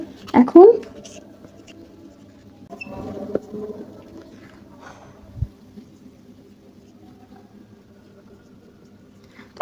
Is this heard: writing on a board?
yes